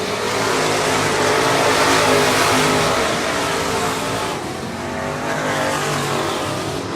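Race cars roar around the track at Cotton Bowl Speedway, a dense, continuous wash of engine noise with revving and tire squeal that stays loud and steady throughout, no voices rising above it.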